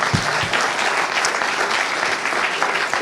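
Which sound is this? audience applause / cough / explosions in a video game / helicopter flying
audience applause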